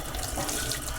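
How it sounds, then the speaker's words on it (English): A kitchen tap runs steadily as something is rinsed under it, a close, even splashing rush of water heard alone. "Give that a little rinse."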